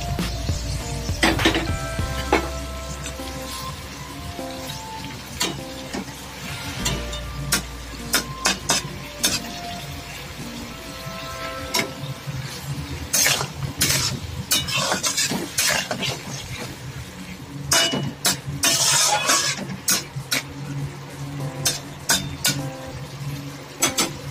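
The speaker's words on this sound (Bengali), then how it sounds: "এর মধ্যে ভাজা মাছগুলো দিয়ে দিই।" Fried fish pieces go into a simmering spicy fish curry, with a low bubbling simmer under repeated sharp clinks and knocks of a utensil against the pot, and a faint sizzle throughout.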